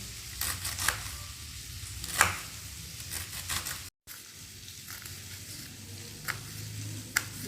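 New potatoes cook in a pan, a soft steady sizzle with occasional crackles and scraping stirs, faint and close, with a brief dropout midway.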